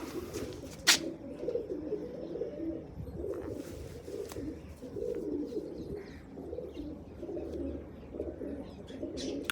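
A pigeon coos steadily in low, soft rolling phrases close by, with a faint chirp and a few light knocks in the background.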